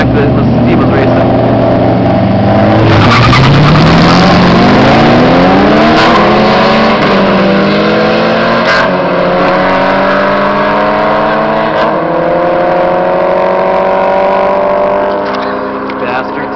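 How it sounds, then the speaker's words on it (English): A turbocharged Honda Civic EG hatchback with a B20 engine races a Pontiac GTO, loud roaring engine notes that rise through the gears with rising and falling pitch, alongside voices. "GTO versus the hatchback that the Steve was racing."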